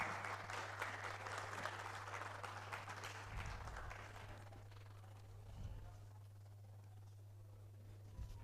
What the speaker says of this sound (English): I would like to ask you to welcome to the stage with a big round of applause, Miss Elizabeth Gachuri